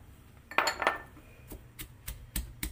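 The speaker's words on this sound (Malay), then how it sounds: "Jadi Kak Nur tumbuk pakai lesung ni je lah." Chili, shallots and garlic pounded in a small mortar, giving a few sharp knocking strikes at an irregular, slowing rhythm, close and fairly quiet.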